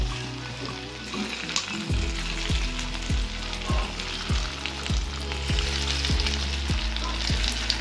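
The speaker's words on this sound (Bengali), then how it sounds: "এরপর আমরা একটি কড়াইয়ের মধ্যে তেল দিয়ে আমাদের এই বেবি কর্নগুলিকে ভালো করে ভেজে নেব।" Flour-coated baby corn deep fries in oil in a wok, making a dense, bubbling sizzle with crackles over a low, evenly repeating thump.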